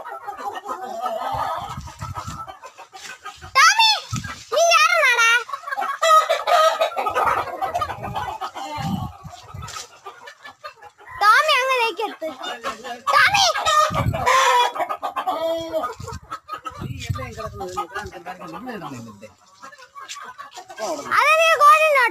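Hens cluck and squawk continuously at close range, with crowing calls rising among them, while a person talks throughout.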